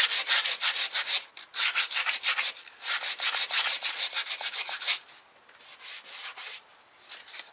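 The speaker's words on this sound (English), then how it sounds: "we're gonna sand this down until the lines match back up to the original body line on here" Hand sanding of body filler on a VW MK2 engine bay, close rhythmic rasping strokes in quick even runs, easing to lighter, softer rubbing near the end.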